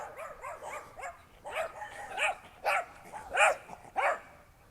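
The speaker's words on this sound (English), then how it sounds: "that dog scared me" A dog barks in a quick string of sharp, fairly close woofs, growing louder toward the end, with no talking.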